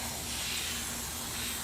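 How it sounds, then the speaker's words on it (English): A short, steady hiss of water misted from a spray bottle over freshly sown beet microgreen seeds, close and continuous with no break. "you want to do is just give it another spray of water"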